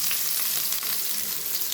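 Three onions hitting hot oil with curry leaves while cooking a Tamil mango kuzhambu, a dense close sizzle and crackle of frying that holds steady throughout with no voices.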